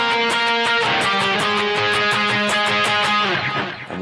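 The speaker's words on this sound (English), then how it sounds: "Okay, so that second section of the solo sounds like this." An electric guitar plays the second section of a song's solo, a run of clear, sustained picked notes in a steady rhythm, loud and close, fading toward the end.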